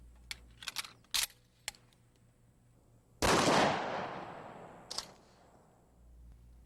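A shotgun fires number 4 buckshot at a mannequin wearing soft body armor: one loud, sharp blast with a long decaying tail, set among a few quieter clicks and small knocks before and after.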